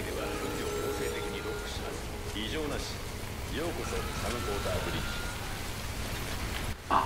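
Steady rain falls across a scene in the video game Death Stranding, a continuous hiss under a talking voice, with a brief louder thump near the end.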